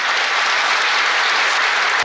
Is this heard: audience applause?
yes